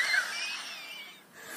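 A voice imitates the dry cough of coronavirus as a breathy, wheezing rasp that is close and fades briefly before returning.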